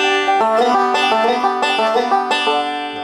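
Bright plucked banjo picking a quick rolling melody, notes sliding up from the second to the third between pitches, clear and close with no voices.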